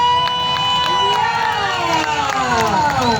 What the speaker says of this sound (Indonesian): boleh tepuk tangan untuk Desa Nagrog